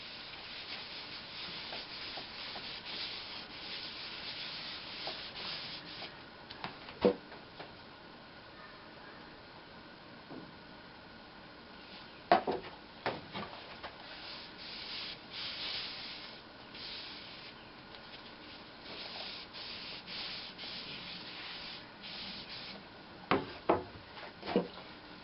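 Cloth or pad rubbing wax onto a turned wooden piece on a lathe, a steady soft brushing hiss with occasional louder scuffs and knocks.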